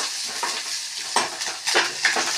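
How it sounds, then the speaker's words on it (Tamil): Sliced onions with curry leaves, garlic and dried red chillies sauté in a pan, a constant close hiss of frying with scattered soft crackles and stirring scrapes, no talk. "நல்லா வதங்கட்டும் வெங்காயம்"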